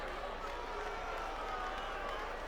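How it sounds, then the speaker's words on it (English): A dense, steady crowd roar fills the whole stretch, a broad sustained din of many voices that reads as a large audience booing at a draft in the video game Madden NFL 25. "A lot of booing. I'm hearing a lot of booing."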